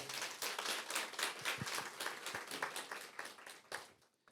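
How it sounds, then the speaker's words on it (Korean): An audience claps at the start of a K-content export marketer training info session, a dense burst of individual claps that holds steady for several seconds before tapering off at the end. "큰 박수 부탁드리겠습니다."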